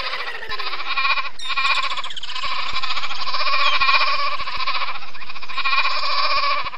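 Farm goats bleat loudly and close by in long, wavering, sustained calls that overlap and carry on almost without pause, with a few faint clicks underneath.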